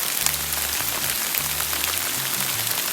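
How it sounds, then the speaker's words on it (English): Sleet or hail pattering steadily on a hiker outdoors on the Appalachian Trail, a dense continuous hiss of small pellets striking the ground and gear, with low wind rumble underneath. "it's sleeting or hailing on me"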